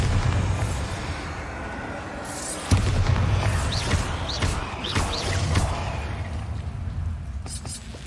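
Bombarda blasting spell detonating in Hogwarts Legacy, several dull booming thuds over a busy rumbling game backdrop with scattered sharp crackles, moderately loud and close.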